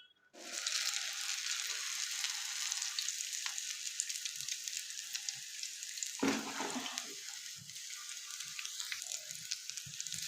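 Chicken and potato cutlets fry in lightly heated oil in a pan, a close, steady crackling sizzle that starts sharply and continues with occasional soft scrapes and pops.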